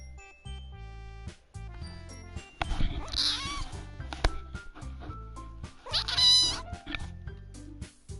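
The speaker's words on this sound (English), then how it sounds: "These cats are literally fighting with each other." Cats meow and yowl at each other in a fight, with drawn-out caterwauls and sharp hisses breaking through, over a quiet backdrop of game music.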